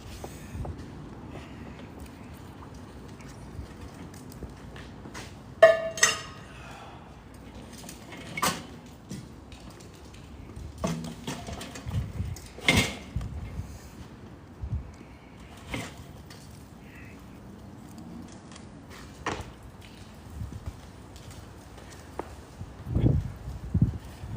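Metal grill grates flipped over a hot grill while reverse searing ribeye, producing scattered sharp clanks and scrapes separated by quiet gaps, with several louder knocks near the end.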